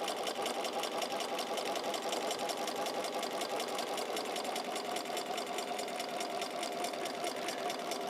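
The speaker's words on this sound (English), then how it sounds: "I'm not really quilting, I'm actually just stitching on a line. It's just like sewing a seam." A sewing machine stitches a quilt along a straight line, running nonstop with a fast, even mechanical chatter that stays close and constant throughout.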